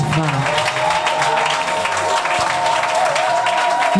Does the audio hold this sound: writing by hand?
no